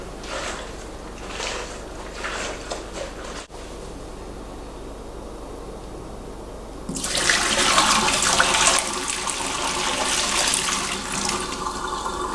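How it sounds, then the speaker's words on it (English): Rinse water sloshes and swishes around inside a stainless steel beer keg. A quieter passage of faint watery movement gives way to a loud, sustained rushing swirl in the second half. "I'm gonna quickly give this a quick swish, get the bulk of the stuff out of it."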